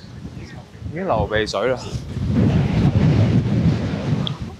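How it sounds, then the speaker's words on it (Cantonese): Strong wind buffets the microphone outdoors in a rush of low roaring gusts that build and stay loud, with a person talking briefly over it near the start. "呢度真係好鬼大風"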